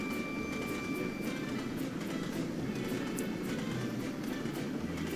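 A train rolling along a railway in a video game, a continuous loud rumble with rhythmic clatter and a faint high tone throughout.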